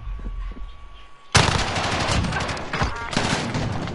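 After a quiet opening with faint voices, a sudden burst of rapid automatic gunfire erupts in a Call of Duty match and keeps going as dense, loud rattling volleys.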